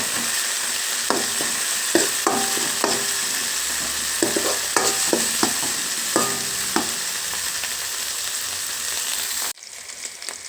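Curry leaves sizzling in hot oil while frying for beetroot palya, a bright steady crackle punctuated by repeated spatula scrapes and clacks, before the sizzle abruptly cuts out near the end.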